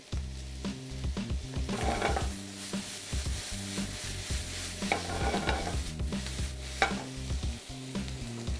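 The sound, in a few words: food being tossed and sizzling in a hot pan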